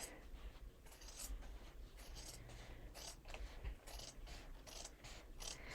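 Scissors cut out fabric pieces for a circle skirt, giving a series of quiet, crisp snips and slicing crunches at an uneven pace with no talk.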